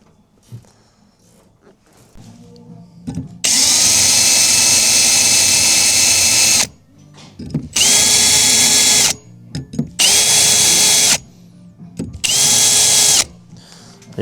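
A power drill with a 5.5mm bit boring holes, running in four loud sustained bursts of a few seconds each, with brief quiet pauses between them.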